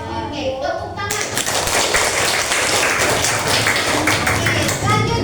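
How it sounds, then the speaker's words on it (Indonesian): Classroom applause from a fifth-grade class and teacher: dense, steady hand clapping begins abruptly after a brief lead-in of speech and continues loud and close, with some taps and voices mixed in. "tepuk tangan"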